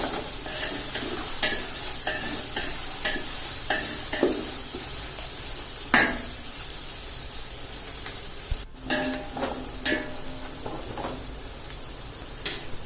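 Onions sauté in a pan with rock salt for a country chicken biryani, giving a continuous close sizzle. A spoon stirs and scrapes against the pan in repeated clicks and taps, with no voices.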